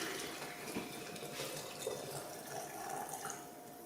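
Water pouring into a crock pot for chicken stock: a steady, moderate splashing rush of running water continues throughout without a break.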